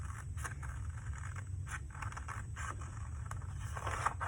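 Scissors snip through paper while cutting out a speech bubble for a collage, giving a quiet, steady run of soft scraping cuts close by, with no talking.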